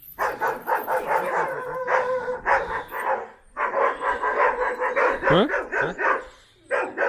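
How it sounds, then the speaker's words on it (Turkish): A Kangal Anatolian shepherd dog barks repeatedly and loudly up close, rapid bursts with brief pauses between them, and a person briefly speaks among the barks. "Şurada bir köpek var ama."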